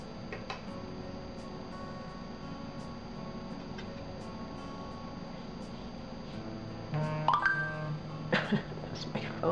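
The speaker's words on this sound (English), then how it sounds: "That's my phone." A phone gives a short burst of beeps near the end of a quiet indoor stretch, close by, following a soft background hum and faint ticking.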